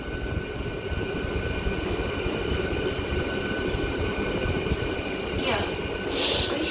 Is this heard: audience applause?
no